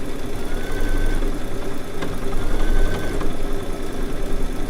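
A Baby Lock quilting machine stitching an edge-to-edge quilting pattern, a loud, steady mechanical hum with a fast rhythmic needle chatter and occasional whirring shifts, close and continuous without talk.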